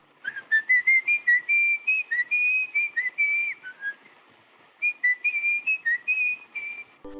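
A man whistles Edvard Grieg's In the Hall of the Mountain King, clear and close, with short phrases and brief pauses between them.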